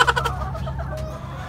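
Chickens clucking close by on a farm during egg harvesting, a few short clucks and soft calls over quiet background, no speech.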